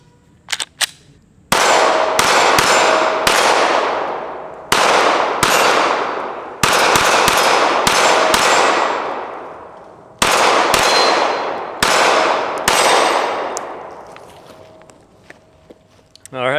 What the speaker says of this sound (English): First shots with the new APOC.